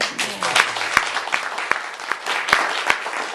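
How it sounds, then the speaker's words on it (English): An audience at a minister's talk bursts into applause, a loud, brisk round of many hands clapping with sharp individual claps standing out. "So let's clap for Jack"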